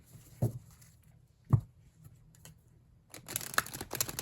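Astrology cards being shuffled by hand: two soft taps, then a burst of rapid papery riffling near the end, close and fairly quiet with no voice over it.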